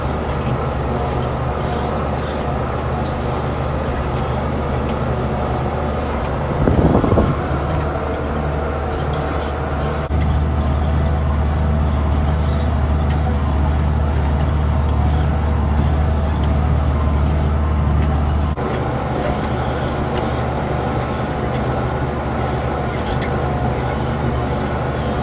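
A tractor engine drones steadily at low RPM while raking thin hay, a constant close rumble with a deeper heavier stretch in the middle and one brief hiss.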